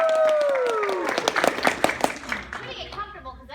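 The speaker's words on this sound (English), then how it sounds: "Let's give her a round of applause." Convention audience at an anime event breaks into a short burst of clapping and cheering, following voices and ending as the crowd settles.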